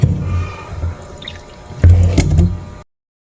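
Water used to rinse chili peppers being poured out, a close splashing pour with drips that swells near the end before stopping abruptly.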